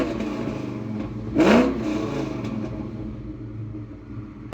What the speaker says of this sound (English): We love our loud vehicles here.